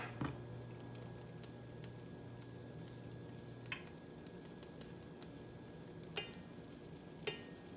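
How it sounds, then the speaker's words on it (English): Faint, steady sizzle of Spam frying in a pan hisses in the background, with a few sharp clicks or taps of utensils now and then. "That Spam back there is starting to fry up. You can hear it sizzle."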